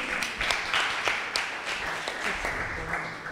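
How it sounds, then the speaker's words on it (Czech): Scattered applause from an audience at a talk, fairly quiet and uneven, with individual claps standing out over a soft background. "Tohle je na potlesk tedy."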